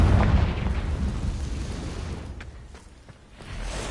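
A Confringo blasting spell goes off in a wizard video game, a loud, deep explosive boom with a rumbling tail that slowly fades and then swells slightly again, with no talking.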